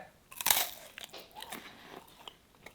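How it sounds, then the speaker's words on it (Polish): A loud crisp bite into a crunchy homemade oat bar made with breakfast cereal, then quieter crunchy chewing continuing close up, with no talking. "Płatki śniadaniowe robią mega robotę chrupiącą."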